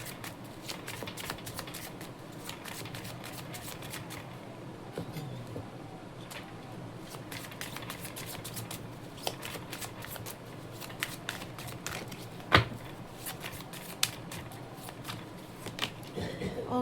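Tarot cards are shuffled and handled in a steady stream of soft, dense riffling and flicking close to the microphone, with one sharper snap near the end and no talk over it.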